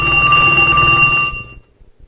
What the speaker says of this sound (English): my cell phone is ringing